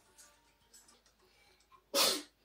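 A single loud sneeze bursts out near the end, after a stretch of quiet background sounds.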